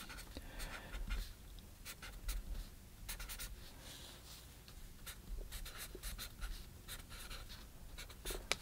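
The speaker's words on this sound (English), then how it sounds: "So the first thing we want to do is we want to do a preliminary sketch." Pencil sketching a preliminary drawing for a floral still life on printer paper, with quiet, close, irregular scratchy strokes in short bursts throughout and no talking.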